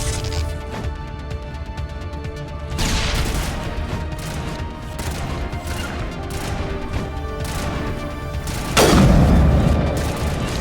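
A grenade explosion in the Mass Effect video game: a continuous rumble of combat noise carries a loud crash partway through, and a heavy, booming blast near the end stands out above the din.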